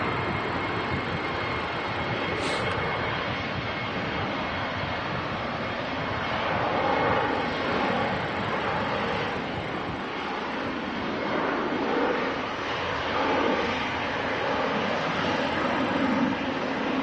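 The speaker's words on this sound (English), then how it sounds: "Yeah, that's an A320, all right." An EasyJet Airbus A320 airliner at Manchester Airport roars steadily in broadband jet noise, fairly loud and continuous throughout, with a rising swell in the later part and no talking.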